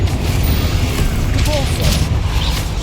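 Confringo fire-blast spell exploding in Hogwarts Legacy during a combat trial, a dense, loud booming roar that stays steady throughout within busy battle noise.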